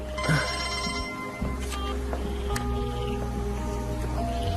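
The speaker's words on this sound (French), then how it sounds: "Je dois prendre l'appel." A telephone rings indoors, a steady electronic ringing repeating through the clip against a low hum, with no talking.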